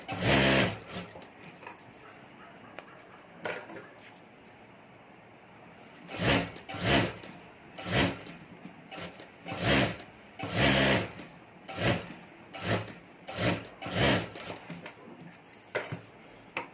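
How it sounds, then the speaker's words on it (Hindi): A sewing machine stitches around a purse made of fabric layered over a rubber sheet and lining, running in repeated short rhythmic bursts of rapid clatter between pauses, close and clear with no talk. "और अब यहाँ चारों तरफ हमें सिलाई कर देनी है।"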